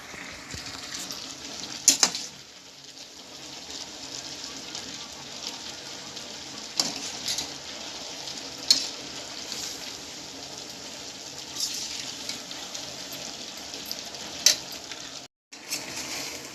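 Papaya pieces bubble and sizzle in a pan of dark sugar syrup, a steady soft hiss and crackle with occasional clinks of a utensil against the pan.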